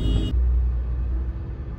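Car traffic in a jam rumbles low and steady from inside a vehicle, a continuous engine and road drone with no talk.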